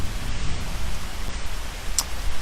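Steady rain falls outdoors during a meditation, a dense, even hiss of drops throughout with no voices.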